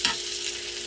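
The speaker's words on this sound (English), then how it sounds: "see right around the edges that your butter's starting to do its job. It's bubbling." Butter bubbling and sizzling around corn in a pan, with a spoon stirring it once at the start. The scrape is brief and the steady frying hiss carries on close by, with no talk.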